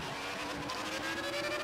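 A Formula 1 race car in a video game roars continuously at close range, its engine note steady and loud through the whole short stretch with a hint of tire squeal.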